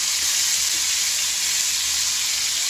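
Fish, tilapia with capsicum, frying in hot oil with whole spices, giving a dense, steady sizzle and crackle that holds evenly throughout, close and loud, with no voices.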